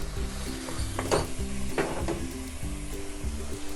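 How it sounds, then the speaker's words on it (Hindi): Carrot halwa with khoya is stirred and roasted in a pan, giving a soft continuous sizzle, scraping strokes of the spoon at a steady rhythm, and a couple of clinks, close up with no talking. "अब हम खोए को भी इसके अंदर अच्छी तरह से मिक्स करेंगे"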